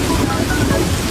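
Rain pours steadily on surfaces in a dense, loud hiss, with low thunder rumbling underneath throughout.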